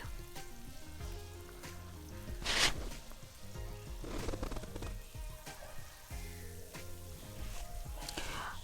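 Chopped garlic, about a tablespoon, fries in hot oil over high heat with a steady soft sizzle, heard under background music and light kitchen clatter.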